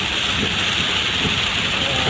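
Heavy rain pouring down on a road, a dense, steady hiss with no breaks, loud and close, with no voices.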